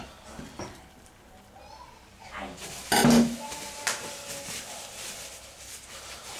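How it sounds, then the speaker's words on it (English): A frying pan set back down on a stovetop in a home kitchen while beef shin cooks, a clanking metal knock mid-clip over a steady sizzle and faint stirring clatter. "Let's put this pan back on."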